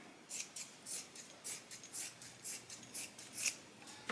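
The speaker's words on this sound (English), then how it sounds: "Just get a little excess fabric out of there. Trim down the bottom a little bit too." Scissors trim excess fabric from a tote bag in a steady run of about a dozen quick, crisp snips, close and moderately quiet, with no talk.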